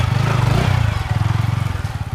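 A motorcycle rides at steady moderate speed, its engine giving a close, loud, even throbbing drone throughout with no pauses.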